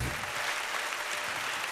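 A studio audience claps at a Star Academy season 2 prime-time show, a dense burst of applause that is loud and sustained throughout, with no voices over it.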